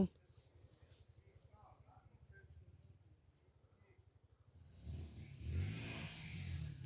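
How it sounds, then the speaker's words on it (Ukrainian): A faint motorcycle engine buzzes in the distance, then swells louder and rougher as it revs and passes somewhere off among the forest trees. "Мотоцикли в лісі їздять"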